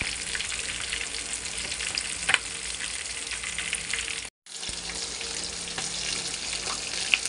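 Two pieces of dough frying in hot oil give off a loud, steady sizzle and crackle, continuous apart from one brief dropout, with no talking.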